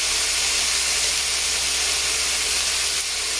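Wild boar meat sears in a hot frying pan, giving a steady, close, unbroken hiss and sizzle that holds at an even level throughout with no voices.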